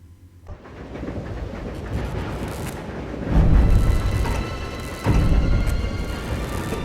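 A moving train in the survival horror game Resident Evil 0 rumbles steadily with broadband rolling noise, swelling into two louder heavy surges partway through, with no talking over it.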